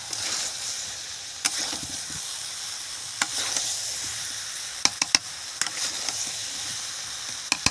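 Masala with potatoes stir-fried for a chicken curry, a soft continuous sizzle under a few sharp, scattered clicks of a spatula against the pan, no voices.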